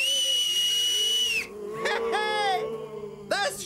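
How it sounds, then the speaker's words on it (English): A shrill whistle blown in a cartoon episode gives one long, loud, steady blast, followed by shorter squeaky warbling tones and a brief final chirp. "I'm gonna give you another whistle."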